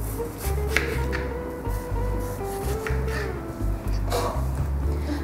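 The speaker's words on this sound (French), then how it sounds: "Et je vais réaliser des tranches pas trop épaisses" A knife slicing thin pieces from an apple, repeated close crisp cuts and rubbing strokes against a board in an uneven rhythm, with low background hum and faint talk.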